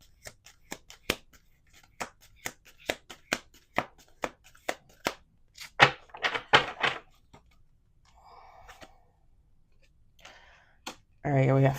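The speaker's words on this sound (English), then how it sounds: "Okay, let's do one more shuffle." A deck of cards is shuffled by hand in a quiet room, a quick run of crisp, evenly spaced riffling snaps that turns into a denser flurry, followed by softer handling rustles and a brief burst of speech at the end.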